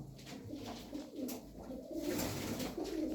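Several Hünkari pigeons, a Turkish breed with blue or pine-coloured wings, give low rolling coos close by, a series of soft murmuring phrases growing slightly louder toward the end.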